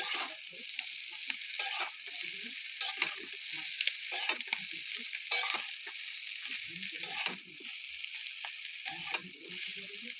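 Chowmein with fried egg being stirred in a pan, with a soft continuous sizzle broken by repeated scraping and clinking strokes of the utensil, moderately close and without speech.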